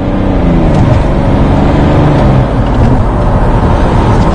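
A car engine drones loudly and steadily from inside the vehicle, rising and falling slightly as it revs while the turbo boost lags behind, with no talk over it.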